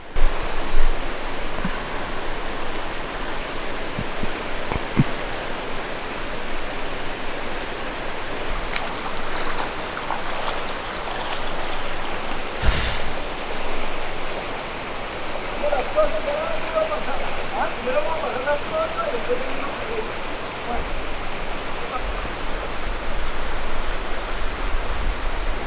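A river in the Colombian jungle near El Danubio, at a crossing point, rushes in a loud, continuous broadband roar for the whole stretch, with a few brief knocks and thumps rising above the flow.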